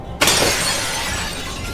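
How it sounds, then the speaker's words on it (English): Windows shattering inward all at once in a house during a howling snowstorm: a single sharp, loud burst of breaking glass followed by a long bright crash of scattering shards that lingers and slowly thins out. "The windows shattered inward all at once"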